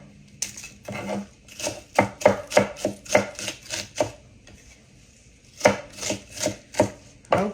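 An onion chopped with a knife on a cutting board in a home kitchen: a quick run of close, crisp thuds, a short pause, then another burst of even chops.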